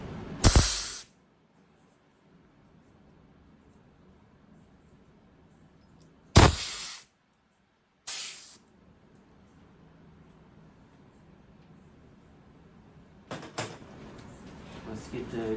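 Short bursts of pressurized spray hiss while a nitrogen generator part is cleaned off during repair, three sharp blasts separated by quiet pauses, then a fainter hiss at the end.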